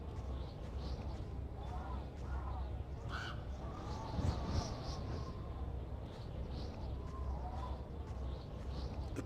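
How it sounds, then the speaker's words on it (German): A raven caws in the video game Fahrenheit: a few harsh caws rise over a steady ambient wash, with some faint outdoor background but no clear voice. "Und ein Rabe."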